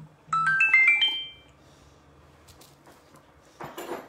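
A phone text message notification chimes once nearby, a short bright run of rising tones, followed by quiet room noise and a brief rustle.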